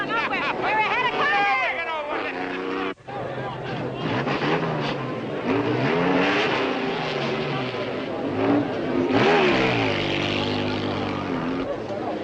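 Race cars in a seven-car race roar and whine past with rising and falling engine pitch, loud and continuous, mixed with crowd babble and people talking throughout.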